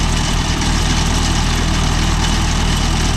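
Mahindra tractor engine running steadily with a loud, continuous low rumble and engine hum, heard alone with no pauses over a few seconds.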